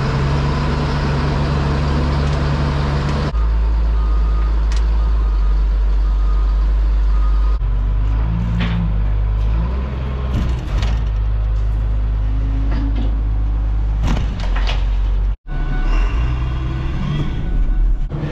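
An old dump truck on a grass-fed farm reverses and unloads, its heavy diesel engine rumbling loudly and steadily up close, shifting in pitch as the load is tipped, with no talk over it.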